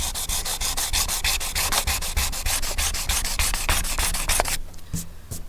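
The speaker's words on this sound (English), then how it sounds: "I've just sanded most of the flaky paint out there" Hand sanding of flaky paint on a Ford Focus ST bonnet, with fast rhythmic rasping strokes that stay loud and close throughout and then stop abruptly near the end, with no speech.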